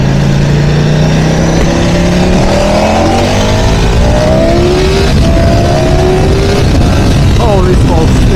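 A Ducati Panigale V4 Lamborghini motorcycle accelerates hard, its engine note climbing through several rising gear pulls with quick shifts between them, loud and close throughout, with a few faint voices in the background.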